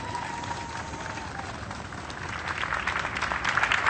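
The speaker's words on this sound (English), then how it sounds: "A big round of applause for all of you." A crowd applauding at a groundbreaking ceremony for restoring the High Bridge over the Harlem River, the clapping swelling louder toward the end, with a voice faintly underneath.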